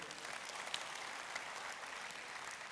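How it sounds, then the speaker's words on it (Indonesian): Church congregation clapping during a special Ascension celebration service, a faint, steady patter of many hands lasting the whole stretch, distant and soft. "Kalau tepuk tangan jangan tanggung-tanggung saudara"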